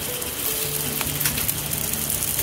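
Food fries in a tiny Daiso mini grill pan at an outdoor campsite, giving a steady, close, crackling sizzle with no voices.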